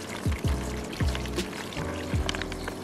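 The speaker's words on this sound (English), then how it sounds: "we're gonna add water till it covers the turkey" Water is poured over a turkey soaking in brine to cover it. Several close gulping pours come in short bursts, each with a falling glug, and nobody speaks.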